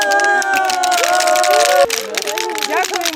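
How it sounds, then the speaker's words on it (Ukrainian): After a Nordic walking training session, the group claps and cheers together outdoors, a mix of applause and excited shouting voices, loud and close, shifting to scattered claps and chatter. "Оплески дані"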